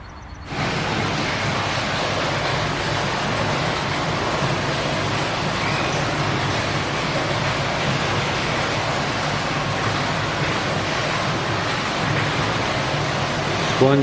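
Rain falls steadily on a wet weekend bikepacking camp, a dense, even hiss that runs unbroken from start to end.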